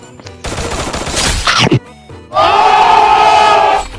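A short burst of rapid gunfire rattles in a shooter video game, followed by a brief gap and then a loud, sustained tonal game sound.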